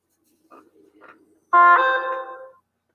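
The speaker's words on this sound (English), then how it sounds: "Sorry about that noise. That's my phone," Two faint short buzzes are followed by a louder tonal electronic chime that rings for about a second and fades, like a phone alert.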